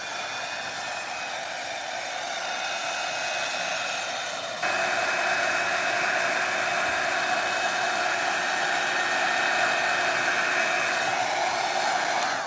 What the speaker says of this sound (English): I can hit it with a heat gun just to get it started.